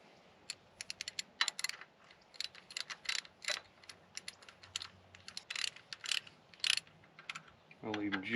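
Ratchet wrench clicking in quick bursts as bolts are run back through an alternator bracket on a 1977 Ford Highboy truck engine, close and fairly loud, with short pauses between runs and no talking.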